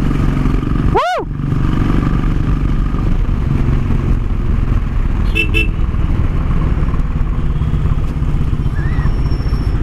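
A Royal Enfield motorcycle fitted with an Indori silencer thumps loudly through a tunnel, its booming exhaust echoing nearby, with a passing horn, a brief whoop and some talk over it.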